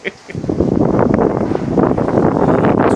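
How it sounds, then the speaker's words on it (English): Heavy wind buffets the microphone at a high spot in White City, London, in a continuous, loud rumbling roar with gusty fluctuations. "It's really windy up here."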